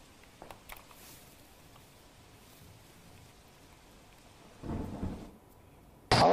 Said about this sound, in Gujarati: કલ્યાણપુરમાં પણ ધોધમાર વરસાદ વરસી રહ્યો છે.